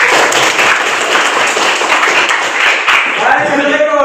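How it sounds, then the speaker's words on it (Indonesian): A classroom full of students claps together in steady, continuous applause, loud and close, tapering slightly near the end. "kita memberikan aplaus."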